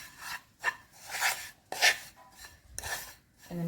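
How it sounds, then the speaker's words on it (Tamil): A hand mixes warm ghee into grated coconut for a khajoor sweet dough, giving about five close, rhythmic bursts of rubbing and rasping with short pauses between them. "இப்போ இந்த நெய் தேங்காயில் இதில் மிக்ஸ் பண்ணிக்கலாம்"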